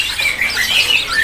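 Pleci white-eye birds chirp at a bird market stall, quick thin high tweets overlapping continuously against a steady background hiss.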